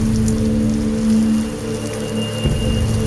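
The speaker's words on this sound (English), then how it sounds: "Pio, where are you going in this rain?" Steady rain pours down in a dramatized period scene, a dense even hiss of falling drops with a low hum underneath and no voices.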